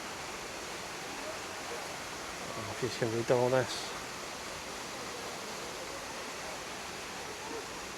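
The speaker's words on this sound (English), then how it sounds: "here we are, at the bridge to the man-made waterfall." A steady rushing roar of a man-made waterfall below a bridge in Jesmond Dene park, Newcastle, continuous and moderately loud, with someone speaking briefly over it.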